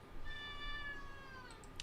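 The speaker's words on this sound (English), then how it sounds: "I don't know if you heard the cat screaming at me" A house cat meows insistently nearby, a drawn-out, tonal cry that wavers in pitch and stretches over more than a second, faint but clear with no talk over it.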